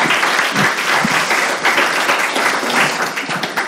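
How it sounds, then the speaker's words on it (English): An audience at a conference on anti-discrimination and poverty gives a panel a warm round of applause. The clapping is dense and even, and it is heard alone. "I also would like to extend a warm thank to the panel with a round of applause."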